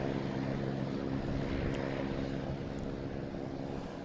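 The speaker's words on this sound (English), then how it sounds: "Southwest. Taking off, heading to Chicago Midway." A Southwest Boeing 737 MAX 8 airliner takes off from Boston Logan, bound for Chicago Midway, as a broad, steady jet roar that holds constant throughout and sounds moderately distant, with no voices.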